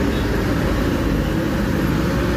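Sumber Jaya bus driving along the road, a steady loud broadband engine and road rumble held throughout without a break.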